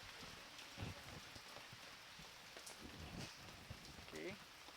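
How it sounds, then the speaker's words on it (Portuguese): Light rain falls in Maceió, a soft, steady patter with scattered drops under faint background noise. "Bota aqui, uma chuvinha para refrescar."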